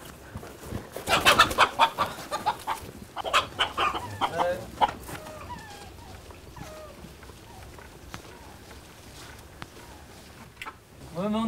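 Hens cluck and squawk in agitated bursts early on, fairly close, then settle into sparser calls with some faint chirping in the background.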